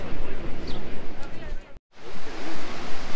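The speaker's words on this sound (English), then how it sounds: "Stood looking at these um, waves crashing against the rocks" Surf breaking against rocks on a stunning beach in the south of France, a steady loud wash of broadband noise with a brief dropout midway, then the roar resumes.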